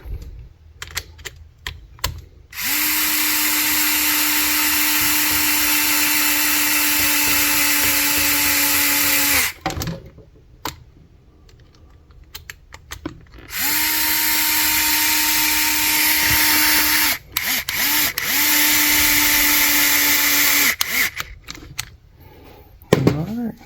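A power drill fitted with a 2.5mm hex bit drives 3mm screws into a steering servo on a Losi LMT RC truck, giving two long, loud whirring runs with short gaps and clicks between them.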